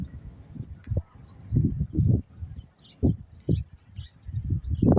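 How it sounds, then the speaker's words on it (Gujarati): Sparrows chirp in thin, high twitters scattered through the clip in a forest, faint beneath louder low rustling and handling noise. "આની અંદર ચકલિયું ઝીણી ઝીણી બોલે છે"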